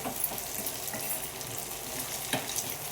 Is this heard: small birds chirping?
no